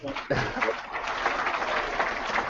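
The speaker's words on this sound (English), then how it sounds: "You can hold the applause to the end." Steady applause from an audience at a virtual town hall, a dense, even patter of clapping sustained throughout, with a voice faintly present underneath.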